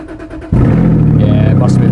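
A Porsche Cayman GT4 running with no exhaust fitted fires up abruptly after a short cranking whirr, settling into a loud, raw, rasping idle close by.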